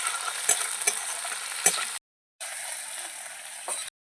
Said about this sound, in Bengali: এবার আমার টমেটো পেঁয়াজ ভাজা হয়ে গেছে